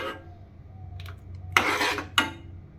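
A spoon scrapes and stirs a thick papaya papad mixture in a pot over a gas flame: a few faint taps, then two close, rasping strokes against the pot, with no talking.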